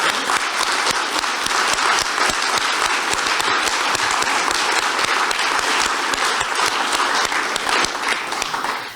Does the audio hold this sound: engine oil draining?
no